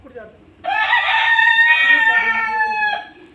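A Punjabi Aseel rooster, an old desi breed, crows once in a loud, close, sustained call of about two and a half seconds, with faint background noise before it and no talk over it.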